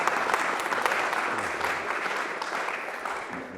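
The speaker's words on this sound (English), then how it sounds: "welcome not only him, but the whole panel with a very warm round of applause" An indoor audience claps warmly to welcome a panel of speakers, a dense, steady round of applause lasting several seconds and tapering slightly.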